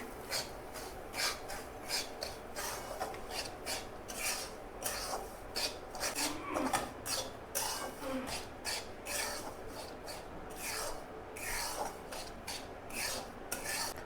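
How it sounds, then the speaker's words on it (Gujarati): Semolina roasting in ghee over a low flame, stirred continuously with rhythmic gritty scraping and rasping against the pan, close and steady throughout, with no voices. "સોજી 200 ગ્રામ જેટલો સોજી છે, તેને શેકવાનો છે ધીરા ગેસે"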